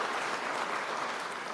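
Steady applause from an audience at a governor's budget address, a dense, continuous wash of clapping from many hands in a large hall, even and sustained with no speech over it.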